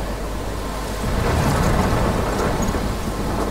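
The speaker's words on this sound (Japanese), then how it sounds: "すごい嵐。" A thunderstorm with rain in the video game Life is Strange: steady hissing rainfall with a rolling rumble of thunder that swells midway and lingers, heard alone without talk.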